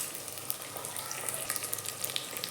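Small shallots sauté with a little salt in a clay pot for dry fish curry: a soft, steady sizzle with scattered light crackles and pops, fairly quiet and close, with no talking.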